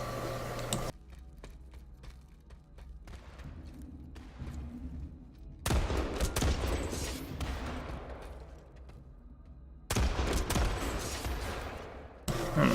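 NS heavy pistol shots in the sci-fi shooter PlanetSide 2, sharp, loud gunshots in separate bursts with quieter gaps of mechanical game noise between them, close and punchy.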